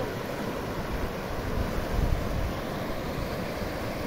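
Rushing floodwater pouring toward the Gargalheiras dam in Acari, Rio Grande do Norte, a steady broadband roar mixed with wind buffeting the microphone, swelling slightly midway and continuing without a break.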